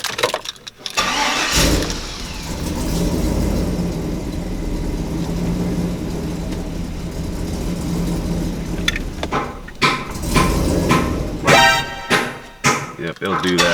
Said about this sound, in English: So when you first start up the truck, it goes up and down. It surges for a little bit before it